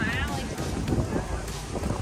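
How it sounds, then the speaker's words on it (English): Wind buffeting the microphone at an outdoor classic car show, a loud continuous rumbling roar that fills the whole span, with a person's voice mixed in underneath. "Oh, this wind is not going to be good."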